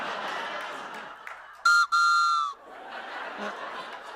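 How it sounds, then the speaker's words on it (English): A novelty all-natural whistle gives two loud, bright toots in quick succession, the second held longer, standing out sharply over a murmuring crowd with scattered laughter and talk. "Even the incredible oxygen recirculating all-natural whistle that toots your colon back"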